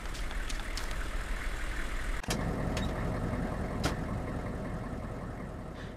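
Vehicle engine in the military game Arma 2, idling with a steady low rumble, broken by one abrupt cutoff and a couple of faint clicks.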